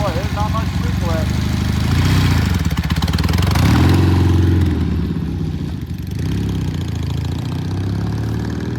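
A 1969 Norton motorcycle engine runs steadily after a false start with sticky clutch plates, a loud close idle with revving swells, while someone talks over it.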